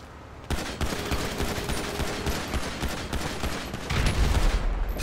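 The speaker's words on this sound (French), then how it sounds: "Je tire des balles au cas où s'il est pas mort." Dense, continuous gunfire from a shootout in GTA V Online, with rapid overlapping shots that grow louder and heavier toward the end, no talking.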